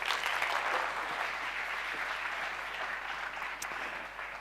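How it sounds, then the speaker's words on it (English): Applause from an audience at an awards ceremony during a mentalism act, continuous and fairly distant, holding at an even level throughout. "Just give him a random applause again."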